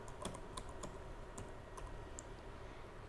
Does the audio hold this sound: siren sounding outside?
no